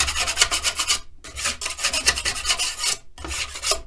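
A spatula scrapes clean the formwork of a silicone mould in three rapid bursts of rasping strokes, close and loud, with short pauses between them.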